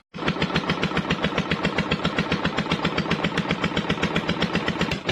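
Boat engine chugging on a canal, a rapid, regular pulsing rhythm at steady loudness, close and continuous from start to end.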